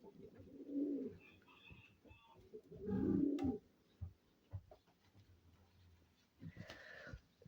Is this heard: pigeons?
yes